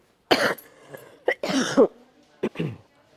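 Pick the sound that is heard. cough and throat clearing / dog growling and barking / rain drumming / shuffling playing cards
cough and throat clearing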